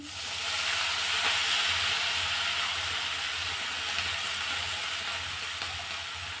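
Finely chopped cabbage and turmeric sizzle in hot oil with fried green chillies for cabbage bhaji. A loud, even hiss fills the pan continuously, with no voices over it.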